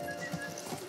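Horse at a veterinary school, with hoof clip-clops and a brief whinny-like tone, moderately close in a steady background over less than a second.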